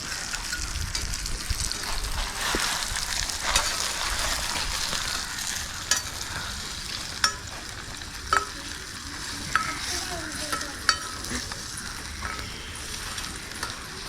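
Curry with curry leaves frying in a pan while it is stirred, giving a continuous close sizzle with repeated spoon scrapes and sharp clinks against the pan, fairly loud throughout.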